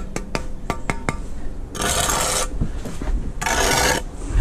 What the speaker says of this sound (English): Scrape that off.